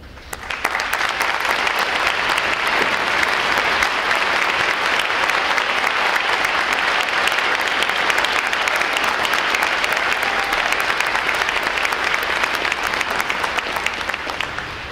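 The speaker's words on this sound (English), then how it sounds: "so we give you a round of applause." Loud, dense applause fills a hall at a U.S. Navy Recruit Training Command graduation as the audience honors standing veterans, continuous and even from start to finish before tapering at the end.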